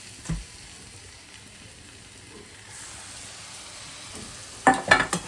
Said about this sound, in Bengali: এবার বেগুন পোড়াটার সাথে এই মশলাটাকে ভালো করে কষাতে হবে